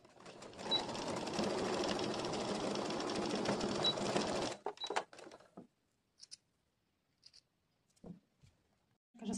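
Sewing machine stitching the shoulder seams of a dress, a steady fast whirring run of several seconds that stops abruptly, followed by brief handling clicks and rustles in a quiet room.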